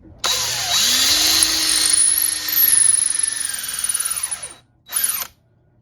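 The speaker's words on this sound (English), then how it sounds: "I put the drill into my DeWalt drill" A DeWalt drill fitted with a long aircraft extension bit whirs up to speed and bores into a pen blank, a steady loud whine with a rattling mechanical edge, then stops and gives a brief second spin.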